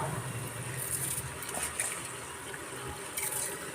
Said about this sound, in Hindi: अब इसमें डालेंगे हम ये चावल अपने। ये हमने इन्हें धो लिया था।